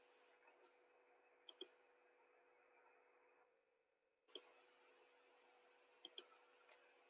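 Computer mouse clicks while dimensioning a drawing in CAD software: sharp, close, quiet single and double clicks arriving in small clusters, with faint background hiss and a brief silent gap in the middle.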